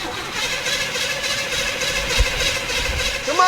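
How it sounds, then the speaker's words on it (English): An engine being turned over on a hydrogen-fuel attempt, a steady mid-pitched mechanical drone running throughout with a faint whine, a brief thump near the end. "I'm gonna turn it over again."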